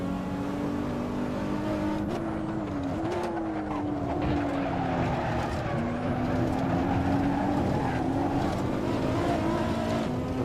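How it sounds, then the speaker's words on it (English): A Porsche production car races around the Nürburgring in Assetto Corsa, its engine droning loud and steady with rising and falling revs and some tire squeal, while other cars run close by throughout. "I know this Porsche is fast."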